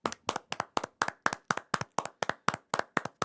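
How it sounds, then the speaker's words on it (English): A small group claps in a round of applause, sharp hand claps in a quick, fairly even rhythm, close and clear with no talking. "Round of applause."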